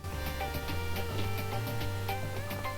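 A Minecraft music disc plays a bouncy electronic tune with evenly spaced ticking beats and a steady low bass line, at moderate volume without voices.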